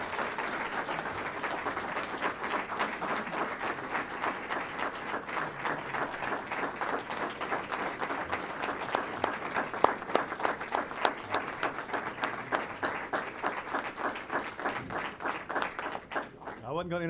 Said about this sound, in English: Going to interrupt all that applause for you